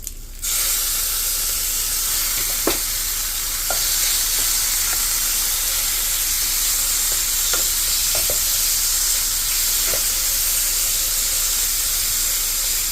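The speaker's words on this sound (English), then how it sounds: "We're going to use a little bit of butter. That's about maybe a tablespoon of butter. And then we're going to add our beef." Thin slices of beef frying in about a tablespoon of butter in a hot pan for Thai basil fried rice, a loud, steady sizzle with occasional pops and light clicks, no talking.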